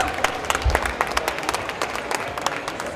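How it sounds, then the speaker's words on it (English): An audience at the CHAMPS Expo applauds in a steady, dense wash of clapping that lasts throughout, with crowd noise mixed in. "Give yourselves a round of applause"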